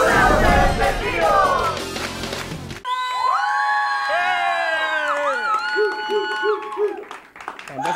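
A studio audience shouts and cheers loudly, then gives way to excited, sustained children's voices calling out in rising and falling tones, with a few short bursts near the end.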